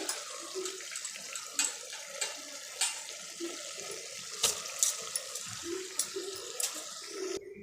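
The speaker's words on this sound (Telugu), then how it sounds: "వాటర్ అయితే పోసానండి, వీడియో ఆన్ చేశాను అనుకొని వాటర్ పోస్తూనే ఉన్నాను" Water is poured from a glass into a pressure cooker holding rice and carrot vegetable pulao, a gentle splashing trickle with repeated soft pours and clinks, nearby and fairly quiet, without talk.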